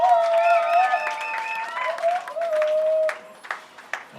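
Guests at a wedding ceremony in Yaoundé applaud, the clapping mixed with high ululating voices and thinning into scattered claps toward the end.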